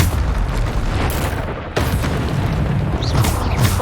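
A Bombarda explosion spell in Hogwarts Legacy, a video game: loud, booming blasts with a sharp hit near the middle, over a constant rumbling combat din.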